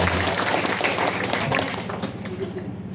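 Wedding reception guests in Manggarai, standing and clapping for an older couple, the applause dense and steady with a murmur of voices mixed in, fairly close and filling the room.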